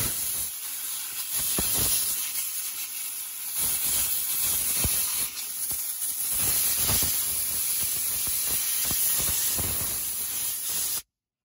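An air compressor line blows compressed air in a loud, steady spray hiss, broken by brief pauses, while cleaning sticky car buttons.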